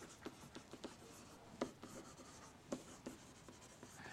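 A pen scratches across paper in a series of short, irregular strokes and taps, faint and close, in a quiet room with no talking.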